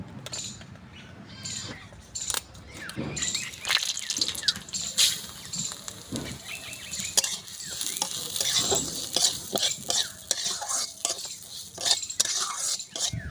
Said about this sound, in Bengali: ডালটা আমার ভাজা হয়ে গেছে